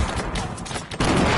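Several players fire in a shooter game, producing a continuous loud fusillade of overlapping shots that swells again near the end.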